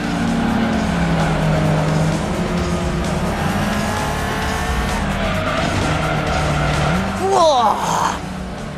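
A car in a racing video game skids, its engine droning steadily as the tires squeal in a long slide, ending in a louder screech near the end.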